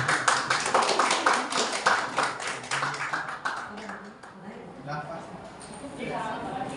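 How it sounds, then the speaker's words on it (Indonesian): Audience applause at a school presentation on positive culture, a burst of brisk clapping from a group that fades after a few seconds, with voices talking over it. "Tepuk tangan dulu."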